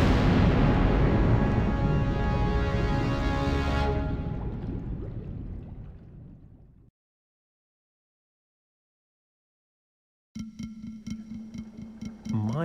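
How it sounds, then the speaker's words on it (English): Sea mines set off by a torpedo in a Finding Nemo read-along PC game blow up in a loud, booming explosion that rumbles and slowly fades to silence, followed by a brief musical chime. "There was a huge explosion."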